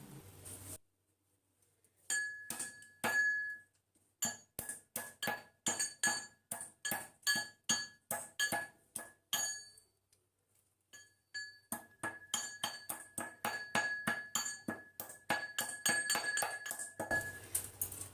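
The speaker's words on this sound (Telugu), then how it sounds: "నేను మిరియాలు తీసుకుంటున్నాను, అలాగే ఇలాచి, ఇంకా దాల్చిన చెక్క తీసుకుంటున్నాను. వీటిని కొంచెం క్రష్ చేసేసి మిల్క్లో వేసుకుందాం" Black pepper, cardamom and cinnamon are crushed in a kitchen with rapid, rhythmic sharp knocks and clinks, steady pounding in two long runs separated by a brief pause, close and fairly quiet.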